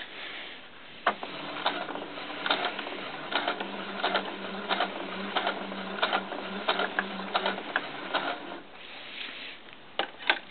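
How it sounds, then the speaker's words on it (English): A domestic sewing machine runs a gathering stitch through purple fabric, its steady mechanical whir and rapid needle clatter filling the close foreground with faint rhythmic ticks throughout. "I'm going to sew 1/4 of an inch right to this spot right there with a gathering stitch"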